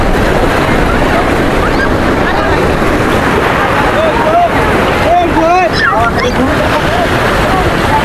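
Big ocean waves roll in at Kolatoli beach in Cox's Bazar, a loud, continuous surf roar mixed with heavy wind buffeting the microphone. Faint distant voices and whistles can be heard under the wash.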